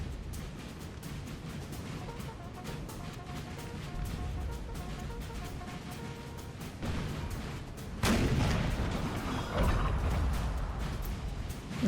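Artillery fire in the Napoleon Total War battle game, with repeated booms and crackling volleys over a continuous rumbling din that swells louder toward the end.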